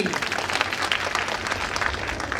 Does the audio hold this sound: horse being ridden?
no